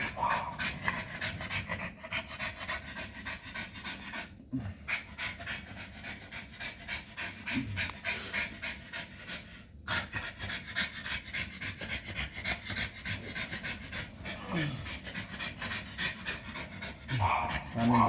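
A pregnant dog pants heavily and rapidly in a steady, continuous rhythm, close by. Rubbing sounds from being wiped down and a voice talking accompany it.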